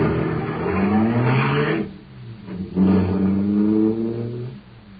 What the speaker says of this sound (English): Boy, that cosmic surface car is really roaring.